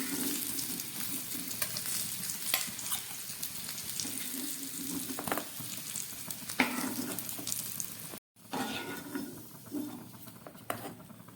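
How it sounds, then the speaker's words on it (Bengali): Large chunks of potato for aloo dum fry in hot oil, a steady close sizzle with intermittent stirring scrapes throughout, briefly cut by a short gap. "খুব ভালো করে আমি আলুগুলোকে ভেজে নিলাম"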